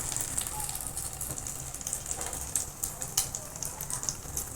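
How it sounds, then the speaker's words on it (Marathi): Egg-dipped bread shallow frying in hot oil gives a steady, fairly quiet crackling sizzle with scattered small pops and spits. "ब्रेड यात छान डिप करून झाल्यावर पॅन मध्ये तेल तापवलं आहे। ते आपण आता शॅलो फ्राय करणार आहोत।"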